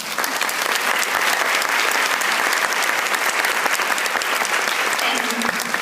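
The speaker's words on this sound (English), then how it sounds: "Y'all, please give this man a round of applause." A farewell-speech audience bursts into dense, sustained applause that stays loud and even throughout, with crowd murmur mixed into the clapping.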